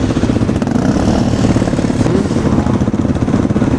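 A quad bike engine on a dirt circuit, a steady close mechanical drone with a rough rhythmic throb, loud and continuous with no talk over it.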